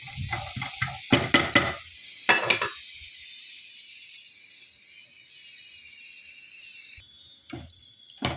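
Chickpeas roasting in a pan, rattling in short loud bursts of clattering as the pan is shaken, separated by quiet stretches, with a last rattle at the end.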